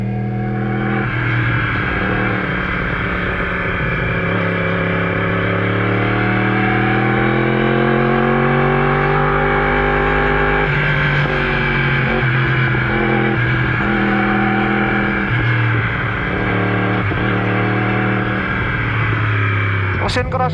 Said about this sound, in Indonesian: Ini knalpotnya udah Acra full system guys.